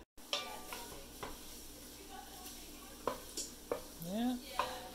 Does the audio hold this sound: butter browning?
yes